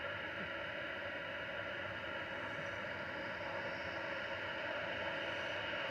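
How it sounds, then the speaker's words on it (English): An EasyJet Airbus A320neo inbound from Tenerife lands at Manchester Airport, its engine roar a steady, broad rushing drone that holds evenly loud throughout with no voices. "EasyJet from Tenerife landing there"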